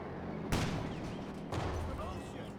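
A 6-pounder anti-tank gun fires in Company of Heroes 2, two sharp loud reports about a second apart, each a broadband crack with a short decaying tail over a steady battle ambience.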